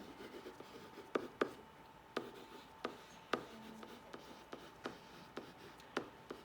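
Pen or pencil writing by hand on paper, heard up close as a quiet run of short scratchy strokes with sharp taps between them, alone with no talk.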